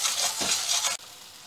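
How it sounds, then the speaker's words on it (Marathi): Masala being stirred and roasted in oil in a kadhai gives a bright, steady sizzle with scraping stir strokes, close up, cutting off abruptly after about a second. "मसाला अगदी आपण खमंग भाजून घेतला."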